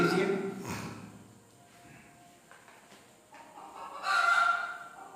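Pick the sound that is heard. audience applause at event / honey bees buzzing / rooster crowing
rooster crowing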